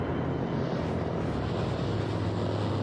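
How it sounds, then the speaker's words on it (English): Fighter planes in the animated series The Legend of Korra roar past in a loud, continuous engine drone that holds steady across the whole moment, close and dense, with no talk over it. "Oh, they got fighter planes."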